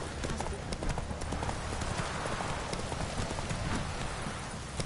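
Hooves of Roach, a horse in The Witcher 3: Wild Hunt, clip-clop steadily under heavy rain, with a voice talking over the ride.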